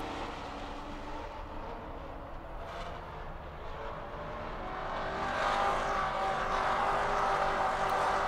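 A field of Maserati Trofeo race cars pulls away from a race start at Virginia Raceway, blending into a continuous engine roar that swells and grows louder and brighter as the pack accelerates, heard from a distance.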